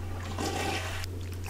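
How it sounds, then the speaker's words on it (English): Water rushes and splashes as a character dives in during a Sims life-simulation game, a steady churning wash over a low constant hum that ends abruptly. "dives into the water"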